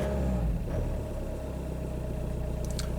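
A VW TDI diesel car with an automatic gearbox idles steadily after starting up, a close, continuous low engine drone with a slight rise near the start and no talking over it.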